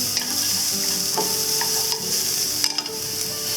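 Sichuan peppercorns and star anise stir-fry in a hot wok over low heat, giving a steady close sizzle throughout with scraping stirs and a few light clinks.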